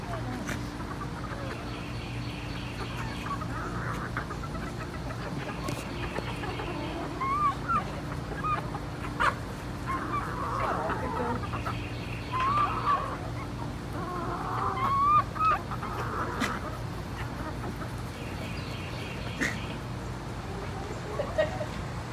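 Backyard chickens cluck and murmur at a moderate distance in short, scattered bursts over a low steady background hum.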